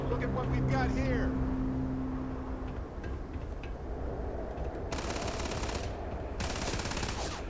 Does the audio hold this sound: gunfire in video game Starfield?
yes